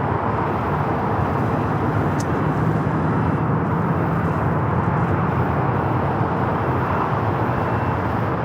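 A converted Boeing 777-300ER flown by Kalitta arrives on runway 25 left at LAX, a steady broadband jet roar holding level throughout, fairly loud and unbroken.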